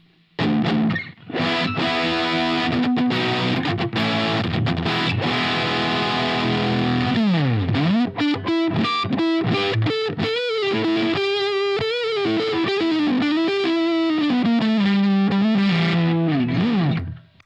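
Electric guitar played through the Line 6 HX Stomp's British 2204 amp model, with a loud, heavily distorted tone. Sustained chords give way to a run of bent single-note lead lines, and no voices are heard.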